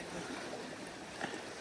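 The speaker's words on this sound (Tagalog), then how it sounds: "May gumagalaw na tubig." Moving water beside ice during spring net fishing in Manitoba, a steady faint trickling and lapping wash with no voices, continuous and even throughout.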